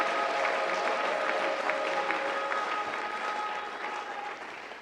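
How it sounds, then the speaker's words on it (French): A church congregation applauding at a French and Swahili worship service: dense, sustained clapping throughout that eases slightly toward the end, with no voices on top. "J'aimerais que tu acclames ce Dieu-là."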